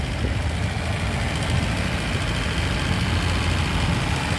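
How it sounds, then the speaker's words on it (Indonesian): A 1993 Suzuki Vitara JLX engine idles with a steady low rumble throughout, smooth and continuous with no revving. "suaranya mesin halus banget nih"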